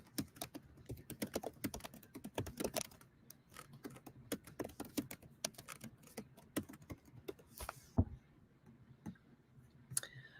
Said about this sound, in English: you're just going to see me typing